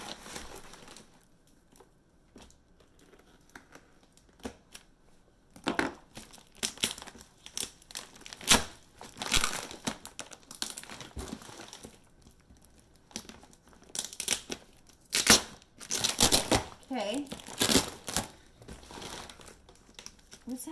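A package is cut open with a knife, giving bursts of crinkling, tearing and rustling of packaging that come and go, some close and loud, with quieter gaps in between. Some speech is mixed in.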